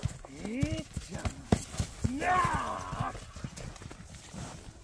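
Horses at a Kyrgyz horse sale or showing clip-clop on hard ground in a short irregular run of hoof strikes, with a whinny-like call and people talking nearby.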